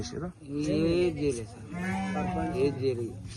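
Sheep bleating in a rural flock that was attacked by dogs, several wavering bleats overlapping close by, mixed with people talking nearby.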